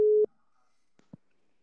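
A single short telephone tone beeps at the start, then a couple of faint clicks and near silence follow.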